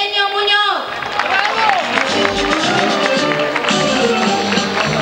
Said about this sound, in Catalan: Demana, per favor, en un fort aplaudiment, la presència a l'escenari del senyor Andrés Pedreño Muñoz